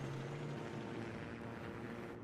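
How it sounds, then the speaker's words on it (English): A helicopter in Battlefield 4 flying overhead, a continuous rotor and engine rumble heard at a distance under busy game battle noise, with no speech. "We can also hear the chopper above"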